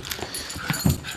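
Puppy gives short whimpers and a faint yip, soft and close, in a brief burst with no talking.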